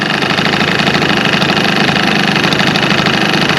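A Honda Live Dio ZX scooter idles close by with a steady buzzing engine, and a fast tinny rattle from its loose muffler runs continuously through the drone.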